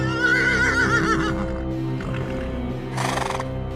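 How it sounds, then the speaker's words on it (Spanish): A terrified horse screams in a long, wavering, shrill neigh, followed by snorting and a rough burst of breath, loud and close as a dramatic sound effect. "el caballo emitió un chillido demasiado horrendo como para tratarse de un simple relincho"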